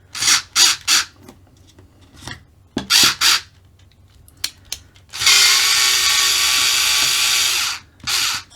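Team Orion batteries being squeezed into an Xray XT2 RC car chassis, with a series of loud creaking, rasping plastic scrapes and squeaks, several short bursts followed by a long sustained grinding rub.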